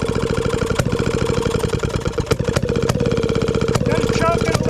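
Small engine on a machine tool restoration, cranked by a Bendix starter against compression and then running with a rapid, rough, loud chugging pulse and occasional sharp clacks, with a voice talking over it.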